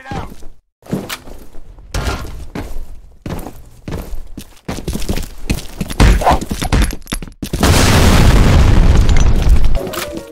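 A grenade blast in the first-person shooter F.E.A.R. Combat during a capture-the-flag match, a loud booming burst late in the clip that follows choppy gunfire and in-game effects.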